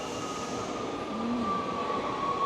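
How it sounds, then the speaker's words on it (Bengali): A non-double-decker train rolls into a station in the Netherlands, a steady low rumble of wheels with a thin metallic squeal rising over it as it nears; no voices. "ট্রেন এসে গেছে।"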